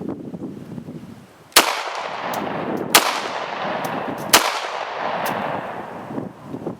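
Three sharp, loud shots from an HK USP Tactical pistol firing .45 Super 200 grain Hornady XTP rounds, spaced about 1.4 seconds apart, each followed by a long echoing decay over steady background noise.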